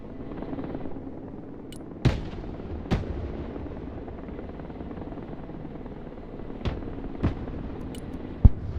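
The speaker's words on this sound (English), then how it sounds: "We're gonna do an extended creeping barrage that does this." An extended creeping artillery barrage in the video game Broken Arrow: a low rumbling bed broken by scattered sharp blasts, several distinct impacts spaced irregularly, some distant and one louder near the end, with no talking.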